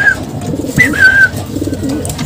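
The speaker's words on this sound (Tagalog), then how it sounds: "Ang kalapating hatid ng hatid." A racing pigeon coos loudly at close range, a couple of throaty rolling phrases joined by a brief thin whistle-like note, with no voices.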